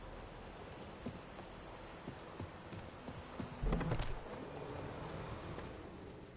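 Geralt's horse Roach from The Witcher 3, hooves clip-clopping in a quick, faint rhythm, with one louder thud-like burst partway through over a low ambient bed.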